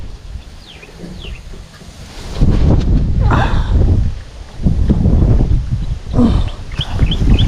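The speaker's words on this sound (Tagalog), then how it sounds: "hangin" Strong wind roars in gusty surges across the microphone on an airgun fishing trip, swelling and easing over a low rumble, with a few faint distant sounds beneath.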